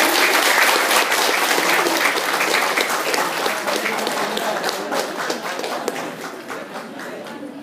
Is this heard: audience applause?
yes